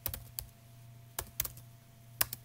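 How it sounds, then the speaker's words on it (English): Several sparse keystrokes on a computer keyboard, including presses of the enter key while outlining notes, sounding as soft isolated clicks spread across a quiet room with a faint steady hum underneath. "And I'm going to say and press enter on my keyboard."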